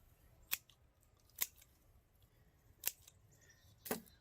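Garden scissors trim back spent forget-me-not plants, giving four sharp, isolated snips spaced about a second apart in an otherwise quiet setting.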